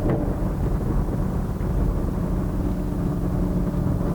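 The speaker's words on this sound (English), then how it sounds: "if you want the sound that we're currently enjoying out of this car, you kind of need to be on a V8 under the hood." A 2020 Chevrolet Camaro with a V8 engine heard from inside while driving, a steady low rumbling drone mixed with road and wind noise, loud and unbroken throughout.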